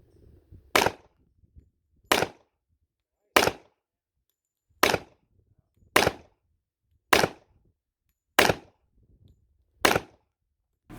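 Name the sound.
gunshots fired at a shooting range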